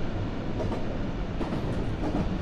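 Eleven-car JR East electric train on the Yokosuka Line between Yokohama and Shinagawa in the JR East Train Simulator game, a continuous close rumble of wheels on rail with light clacking and no speech.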